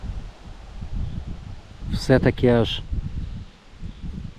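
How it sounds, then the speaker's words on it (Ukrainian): Wind gusting through foliage makes a steady, noisy rustle throughout, with someone briefly speaking in the middle. "Бачите, який вітер здійнявся?"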